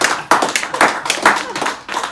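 A small audience claps at a scholarship donation event, in uneven bursts of hand claps close by, with a voice speaking over them.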